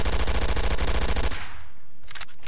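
Rapid automatic gunfire in Garry's Mod, loud and continuous for over a second, then cutting off abruptly into a quieter game tone.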